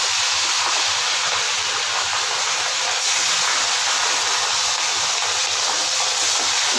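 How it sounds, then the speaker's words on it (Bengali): Fish fry in hot oil in a wok, giving a loud, dense, continuous hiss and sizzle that stays even and close from start to finish. "এবার তেলটা দিয়ে দিচ্ছি মাছগুলি ভাজার জন্য"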